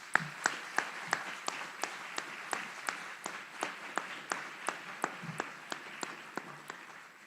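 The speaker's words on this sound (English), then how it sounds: "Please join us in giving a big round of applause to these outstanding drill sergeants and instructors." Applause from the audience at an Army aviation brigade graduation ceremony honoring drill sergeants and instructors, with sparse, distinct claps ringing out at a steady pace from a fairly distant gathering.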